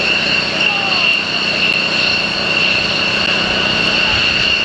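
Thunderbirds jets at an air show spool up for their takeoff roll, a loud sustained high-pitched turbine whine over broad roaring rumble, heard steadily throughout.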